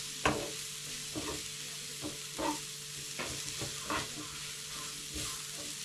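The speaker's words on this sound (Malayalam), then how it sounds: "നല്ലപോലെ തന്നെ പച്ചമണം മാറുന്നവരെ ഇളക്കി കൊടുക്കണം കേട്ടോ" Onions and spices frying in a pan for a roasted-coconut varutharacha kokra curry are stirred steadily, with repeated scraping strokes over a constant close sizzle and no voices.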